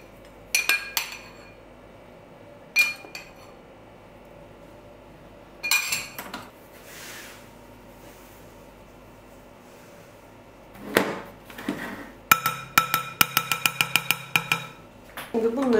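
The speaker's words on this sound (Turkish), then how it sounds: "Şimdi bunları da sadece çok olmadan karışana kadar çırpıyorum." A whisk clinks against a bowl as cake batter with cocoa and baking powder is mixed, with scattered utensil knocks first and then a quick rhythmic run of taps near the end.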